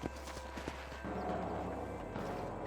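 Horse hooves clip-clop in the Red Dead Redemption video game, a run of quick faint hoof knocks at the start that give way to a steadier rumbling gallop with low background game sound.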